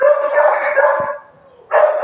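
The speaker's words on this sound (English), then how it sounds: "sorry about my dogs." Dogs barking at home, loud sustained yapping close by that drops off briefly and then bursts out again, with no talking over it.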